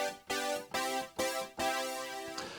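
Bright stab synth preset built in Reason's Europa synthesizer, playing four sharp, loud chord hits with a quick decay, alone with no talking.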